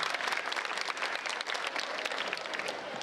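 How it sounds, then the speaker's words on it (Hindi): Listeners at a Hindi poetry and comedy recital break into applause, a full, lively patter of many hands sustained for a few seconds without speech. "एक बार तालियां बजाकर मुझे आदर्शित करें।"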